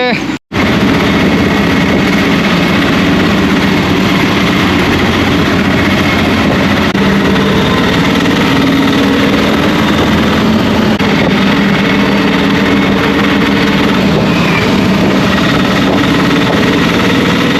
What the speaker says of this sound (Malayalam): നല്ല കാറ്റുണ്ട് കാറ്റിൻ്റെ ശബ്ദം കേൾക്കുന്നുണ്ട്